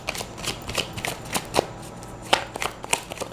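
Tarot cards are shuffled and drawn by hand, a close series of crisp riffling flicks and soft slaps in an irregular rhythm with no talking.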